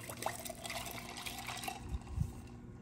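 Homemade elderflower sparkling wine, chilled overnight, poured out in a soft, close, continuous trickle with light fizz and a couple of dull knocks near the end.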